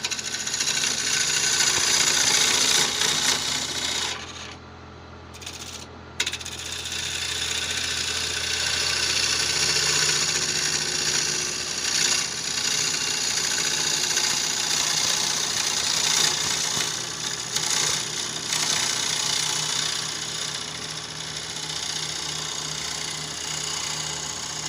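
A wood lathe spins a bocote bowl blank while a tool cuts it, a loud, steady motor drone with scraping and rough cutting noise, briefly easing off for a moment before resuming at full strength.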